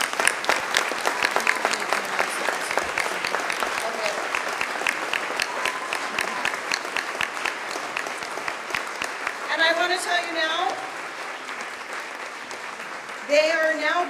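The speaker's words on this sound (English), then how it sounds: "please give another huge round of applause for Bill Rosniai and Murray Cotter, our 2017 Victory Award honorees" An audience at a WWII legacy memorial victory gala applauds award honorees, with loud, sustained clapping that fills the room and a voice briefly rising over it near the end.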